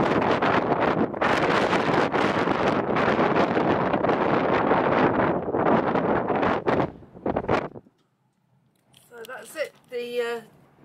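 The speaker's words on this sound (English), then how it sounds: "The wind seems to stop and gives us a little bit of a sense that it's going to be okay, and then all of a sudden picks up." Strong gusting wind buffets the outside of a canal boat on the Ashby Canal, a loud continuous rushing that drops out near the end, followed by a short stretch of people talking.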